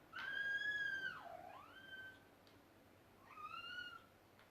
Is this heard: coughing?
no